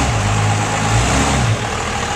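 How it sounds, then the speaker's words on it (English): A Dodge Turbo Diesel 250 three-quarter-ton pickup truck engine runs with a loud, close, steady diesel drone and low rumble, easing slightly partway through without any talk. "And that noise you hear is Scotty with his Dodge Turbo Diesel 250 3/4 ton pickup truck"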